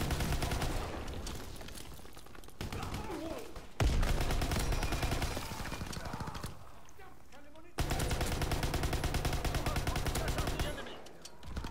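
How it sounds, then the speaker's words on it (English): Sustained automatic weapon fire from Call of Duty WW2 multiplayer Hardpoint, dense rapid bursts running almost continuously with a few brief breaks and a sharp louder blast near the middle. "I just kept firing."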